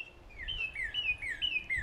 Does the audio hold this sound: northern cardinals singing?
yes